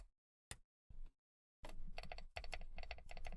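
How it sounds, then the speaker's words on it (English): A mechanical keyboard with loud, rattly stabilizers and an unlubed switch, heard close and alone: two isolated key presses, then a fast run of clacky typing with a brief pause mid-burst. "that's the stabilizers being really loud for some reason."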